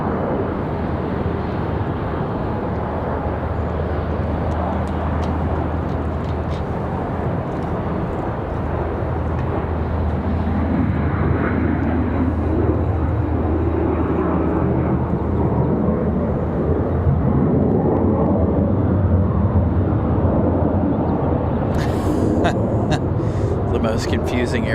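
A jet airliner taxies or climbs out at Raleigh-Durham International Airport, its broad engine roar steady and loud for the whole stretch, with a low rumble underneath and a voice heard intermittently over it.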